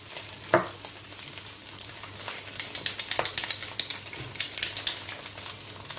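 Salmon fillets searing in a hot pan, a steady soft sizzle with crackling pops and spits rising and falling throughout, one sharper pop early on, no voices.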